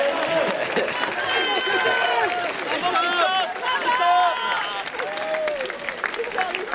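A racecourse crowd at the Prix de Diane applauds and cheers as the racehorse Gezora returns under jockey Christophe Soumillon, with clapping and excited voices mixed into a steady hubbub.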